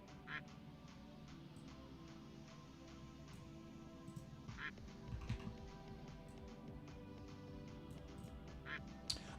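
A duck quacking sound effect plays several times during a live stream, with short nasal calls scattered over a low, steady background hum, faint and spaced apart with gaps.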